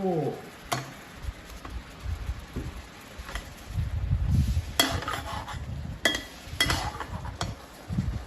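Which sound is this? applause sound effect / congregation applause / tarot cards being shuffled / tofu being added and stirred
tofu being added and stirred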